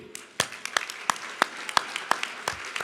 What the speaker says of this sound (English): would you please stand and let us applaud you